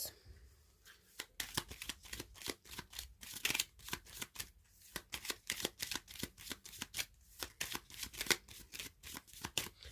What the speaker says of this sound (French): Je vais tirer des cartes du Lenormand et des charms.